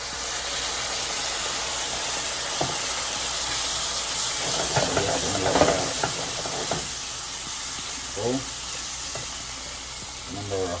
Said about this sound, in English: Alright, now we're going to go ahead and add our coconut milk.